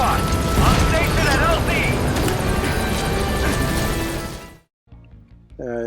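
Pequod, the strike helicopter in Metal Gear Solid V: The Phantom Pain, roars loudly with rotor thrum and engine noise for several seconds, then cuts off abruptly before in-game sounds return.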